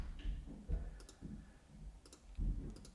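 Computer mouse clicks while opening network settings, several crisp, close, isolated clicks spaced unevenly over a soft room hum.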